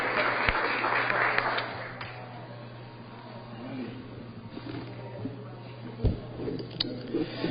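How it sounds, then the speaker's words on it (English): Round of applause from the audience at a city Board of Aldermen meeting, moderate clapping that thins and fades over several seconds with scattered claps and room noise, no talking. "Let's give New City Schools one more round of applause"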